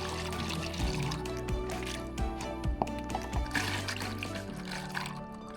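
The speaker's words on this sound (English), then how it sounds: "you can funnel it into the bottles until it covers all of the cherries" Hot sugar syrup poured through a funnel into bottles packed with cherries: a steady, soft liquid trickle and gurgle running throughout, with a few light glassy clinks and taps scattered along the way.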